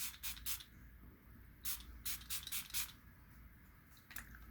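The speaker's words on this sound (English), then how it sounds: "Before we do mascara, I'm going to spray my face down." Catrice HD Active Performance Freezing setting spray misted onto a face in several short bursts, close and crisp, clustered in quick pairs and runs with pauses between.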